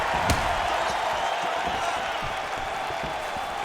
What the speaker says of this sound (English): And you hear the crowd react every time they come together